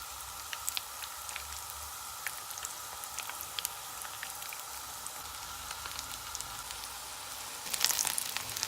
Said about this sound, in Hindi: मैं इन्हें मीडियम फ्लेम पे फ्राई कर रही हूँ